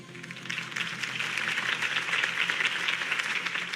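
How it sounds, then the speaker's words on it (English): Applause follows a campaign speech in a Batman video game, a steady wash of clapping from a crowd, moderately loud and even throughout, without speech. "If only Mr. Wayne, my campaign's largest backer, could have heard that applause"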